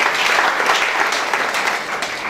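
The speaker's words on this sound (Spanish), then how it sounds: "Para ellos pedimos un fuerte aplauso también" A full, steady round of applause from an audience in a hall, honouring invited speakers with thick, continuous clapping from many hands and no break for the whole span.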